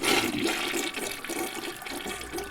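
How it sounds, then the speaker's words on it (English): A household toilet flushes with a full swirling rush of water draining down the bowl, close and steady throughout. "It's just going to swirl in the toilet and down it goes"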